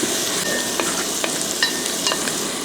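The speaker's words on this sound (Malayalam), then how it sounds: "ഇതുപോലെ എണ്ണക്കകത്ത് വഴറ്റിയെടുത്താൽ മതി അപ്പോൾ ഇത് നല്ല വഴറ്റിയെടുക്കണം" Onions sauté in hot oil in a pan, a dense continuous sizzle with faint intermittent stirring clicks, close and steady throughout.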